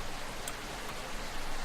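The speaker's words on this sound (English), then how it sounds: "I can't hear you over the rain." Rain falls steadily in the video game Rainswept, an even hiss of dense drops with no voices over it.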